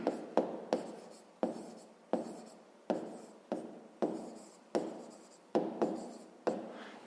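A pen scratches across paper while a 5th-grade math exercise is written out by hand. About a dozen quick, close strokes come in a steady rhythm, each a sharp tap fading into a soft scrape.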